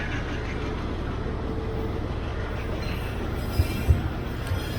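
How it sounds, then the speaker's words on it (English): Low rumbling of heavy Amtrak passenger locomotives idling after being uncoupled from the train and moving off, a steady broadband drone with a couple of faint clanks near the end. "the old locomotives are decoupled and head off for a rest"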